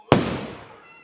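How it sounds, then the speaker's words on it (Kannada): A single sharp firecracker burst at a village Ramanavami festival, loud and close, with a short crackling tail that fades out within about half a second. "ಪಟಾಕಿ ಹೊಡಿಯೋದಕ್ಕೆ"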